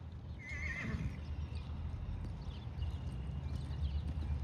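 A horse whinnies once near the start, then its hooves keep up a steady clip-clop at a lope through the rest, close and fairly loud with no talking.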